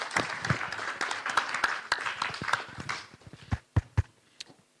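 Conference audience clapping for the session presenters: a burst of scattered applause that thins into a few final separate claps.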